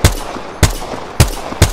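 Four sharp, evenly spaced gunshots in Apex Legends, loud and close, each a punchy crack with a short tail, no talk over them.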